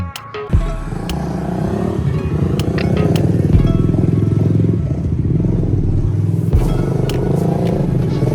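Engine of a replacement motorcycle rented in Uluwatu, Bali, running steadily close by with a low throbbing idle and rattly mechanical clatter, a brief rev at the start and another blip later.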